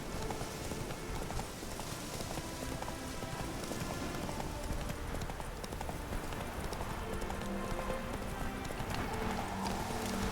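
Horse hooves galloping steadily in The Witcher 3, a fast rhythmic clip-clop running throughout at moderate distance with faint background ambience.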